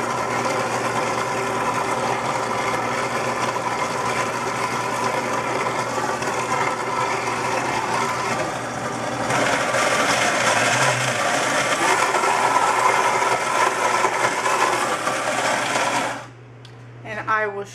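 A kitchen blender grinds raw oatmeal with a steady, loud motor whir that holds for about sixteen seconds and then cuts off abruptly.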